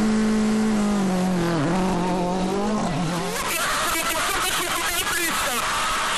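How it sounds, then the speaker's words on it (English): A Peugeot 307 WRC rally car on a gravel stage in Spain whines and shifts pitch as it drives past, rising into a harsh, buzzy roar with gravel-like crackle, loud and close. "Bengay driving the Peugeot 307"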